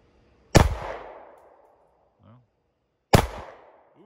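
Two sharp, loud gunshots ring out about two and a half seconds apart at a backyard shooting range, each with a quick decaying echo, with a brief voice heard between them.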